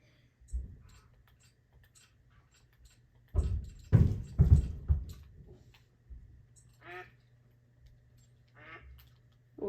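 Ducks quack in a duck hunting video game, a cluster of loud close quacks mid-stretch with scattered fainter calls and clicks over a steady low game hum.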